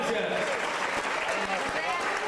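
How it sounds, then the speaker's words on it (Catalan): Steady applause from a crowd at a trials motorcycle event, dense and continuous throughout with a voice talking over it. "Un fort aplaudiment per en Marc Freixa."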